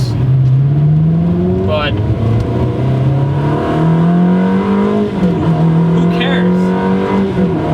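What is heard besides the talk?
Ferrari 360 with Tubi exhaust accelerating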